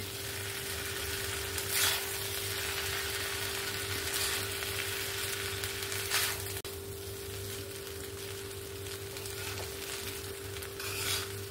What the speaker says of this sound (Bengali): রাইসটা দিয়ে হালকা হাতে মশলার সঙ্গে ভালো করে মিক্স করে নিতে হবে